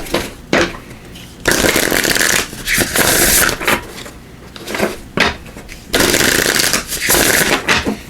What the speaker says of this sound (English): we'll give these a quick shuffle